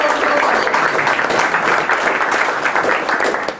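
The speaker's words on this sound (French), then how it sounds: "Il faut l'applaudir quand même." An audience at a Java programming talk applauds, steady dense clapping from many hands that fills the room, with a few voices mixed in and a slight fade at the end.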